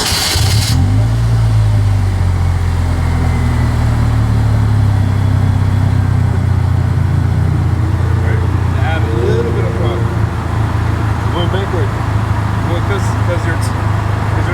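A Lamborghini Urus engine turns over and settles into a loud, steady idle close by, running continuously with a deep rumble after a brief starting burst.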